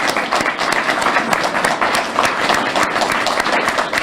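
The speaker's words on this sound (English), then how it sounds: "let's all give a round of applause for all those who have contributed to this" A community gathering for a journal launch breaks into loud, dense applause from many hands, a continuous clapping roar with no voices on top.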